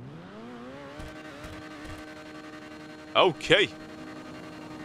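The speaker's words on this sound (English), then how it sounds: "Crazy backfire on the exhaust system there." Overflod Entity MT supercar in GTA 5 idling with a deep steady hum, then two sharp, loud exhaust backfire pops close together near the end; a voice speaks briefly.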